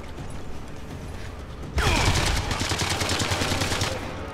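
A sniper rifle shot rings out in Sniper Elite 3: Afrika, a sudden loud crack followed by a dense, sustained roar of echoing reverberation and rattling gunfire that holds for several seconds over a quieter ambient bed.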